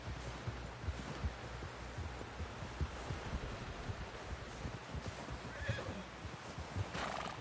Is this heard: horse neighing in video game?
yes